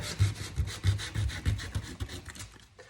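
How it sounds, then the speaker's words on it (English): Sandpaper rubs back and forth over painted wood to create a weathered beach finish, a close, rhythmic scratchy rasp with about eight quick strokes that fade out at the end. "Now I'm just going to go over that really lightly with the sandpaper"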